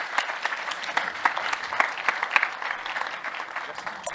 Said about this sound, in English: I think we could give them a warm round of applause